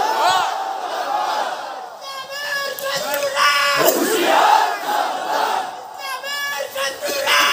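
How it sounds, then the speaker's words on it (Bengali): A large crowd at a religious gathering chants a slogan in loud, rhythmic unison, voices rising and falling together in repeated shouted phrases, close and dense. "একটু একটা স্লোগান দেন দেখি।"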